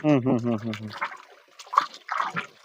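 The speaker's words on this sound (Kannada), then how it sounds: "ಈಗ ಇಪ್ಪತ್ತು ಕೆ ಜಿ ಸಗಣಿ ಹಾಕಿದ್ದೀನಿ ಅಂತಂದ್ರೆ ಈಗ ಅರವತ್ ಲೀಟರ್ ನೀರು ಬಿಡಬೇಕು" Water being poured onto 20 kg of cow dung to fill a biogas plant, a brief rushing splash after a man's speech, mixed with his continued talking.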